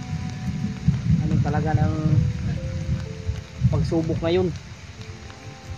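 Steady rain falls throughout, a low continuous wash that sits under someone talking in the foreground.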